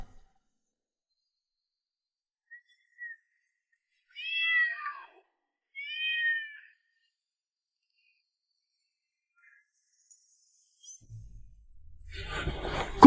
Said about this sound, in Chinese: 皇上，你看，猫太子当爹爹了，这么多小猫咪，好热闹呀！